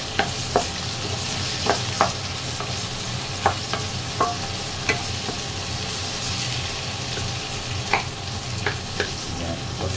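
Onion and ginger sautéing in a pot for home-style beef nilaga while being stirred, a steady close sizzle punctuated by repeated sharp clinks and scrapes of the spoon against the pot, with no talking.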